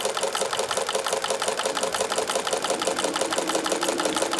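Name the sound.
Singer walking foot sewing machine stitching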